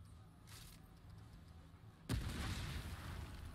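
An explosion in the video game Remnant 2, a sudden loud boom that hits partway through, then a rumbling broadband tail sustaining to the end over quiet game ambience.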